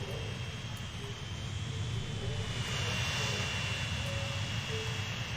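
A jet airliner engine in the video game Transport Fever 2 gives off a steady, moderately loud roar with a faint high whine, holding constant over a few seconds.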